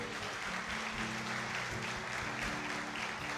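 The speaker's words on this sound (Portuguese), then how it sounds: "Você pode aplaudir a Jesus aí, querido?" Congregation applauding in a church service, a steady dense wash of clapping from many hands sustained throughout, with faint tonal sound lingering underneath.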